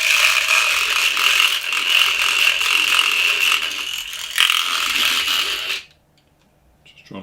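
A Robart paint shaker rattles paint in a loud, continuous mechanical buzz with a steady clattering rhythm that runs for several seconds, then cuts off abruptly into near silence.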